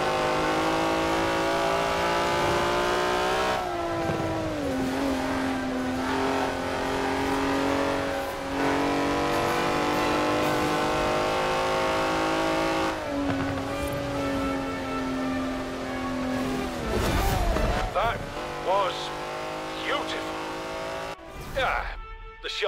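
A car engine in the racing game Forza Horizon 4 revs and accelerates in long rising pulls between gear shifts on a straight run, loud and close, with tire noise near the end and someone talking over it.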